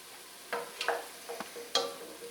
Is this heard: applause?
no